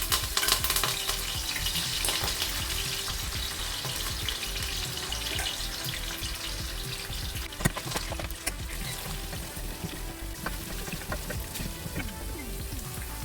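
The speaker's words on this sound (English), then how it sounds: "we're just going to fry the potatoes" Potatoes frying in hot oil in a pan, a steady dense sizzle with scattered crackles and pops, close and fairly quiet, with no talking.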